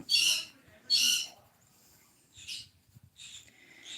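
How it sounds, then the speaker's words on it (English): Loud, harsh calls from pet birds burst out twice close by, followed by a few shorter squawks, with faint rustling between. "Part of having birds is always dealing with some noise."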